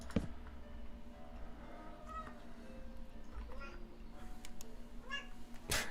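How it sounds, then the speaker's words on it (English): A pet cat named Munchie meows indoors, several soft, drawn-out calls spread across the stretch, fairly close but quiet, with a person talking in the background. "Can you guys hear my cat?"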